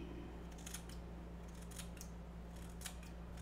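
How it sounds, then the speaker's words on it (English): Fiskars cloth scissors snip fly tying material: several quick, crisp close-up cuts in small clusters over a low steady hum, with no talking. "They're cloth scissors."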